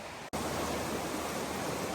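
Creek water flows at a forest creek crossing in the remote Snowbird Wilderness of Nantahala National Forest, North Carolina: a steady, close, broadband rushing wash that starts after a brief gap and continues unbroken.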